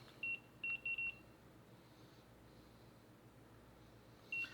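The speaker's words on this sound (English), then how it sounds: "I'm gonna go ahead and set a 30-minute timer." Kitchen timer being set for thirty minutes: three short, sharp beeps in quick succession, then a pause and one more beep, each bright and close against a quiet room hum.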